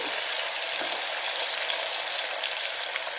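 Chopped medium-size big onion frying in hot oil for a mutton curry, a steady dense sizzle that stays close and even throughout with no talk.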